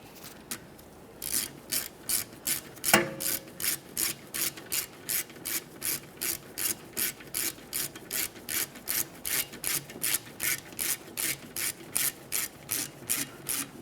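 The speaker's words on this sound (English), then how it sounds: "Continue on with your 2 caliper slider mounting bolts here." Ratchet wrench snugging the rear brake caliper slider mounting bolts on a 2011-2020 Toyota Sienna, a long run of steady, evenly spaced clicks, close and clear, with no talk.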